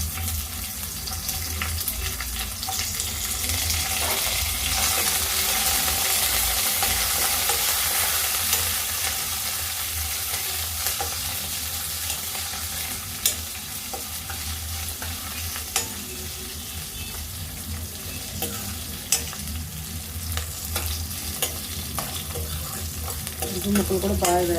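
Onion pieces and dried red chillies fry in a pan for a village-style coconut cluster bean dish, giving a steady loud sizzle with stirring noises and a few scrapes, and no one speaks.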